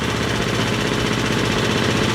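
Engine of a Frontier portable sawmill under load while cutting a solid oak 6x6 fence post, a loud, steady, rapidly pulsing mechanical roar that runs throughout with no voices.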